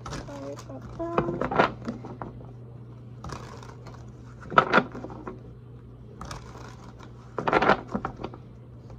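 Tarot cards are shuffled in a few soft, papery bursts of riffling and patting, separated by short pauses. Between bursts a steady low hum sits in the background.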